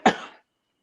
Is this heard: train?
no